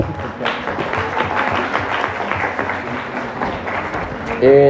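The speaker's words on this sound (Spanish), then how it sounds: "Un aplauso, por favor." Audience applause at a lecture on theatre and ontology fills the hall with steady clapping. A voice and a brief tonal sound come in at the very end.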